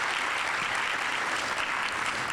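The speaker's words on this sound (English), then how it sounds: "Can we give them another round of applause?" Applause for high school orchestras at an educators' awards ceremony, a brief, dense wash of clapping from a large audience, steady and unbroken.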